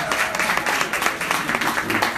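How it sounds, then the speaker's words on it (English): An audience at an event for entrepreneurs applauds with dense, steady clapping that holds at an even level for the whole moment. "can we give them a round of applause?"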